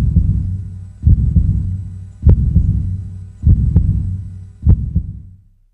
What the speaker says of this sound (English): Can you feel your heart beating?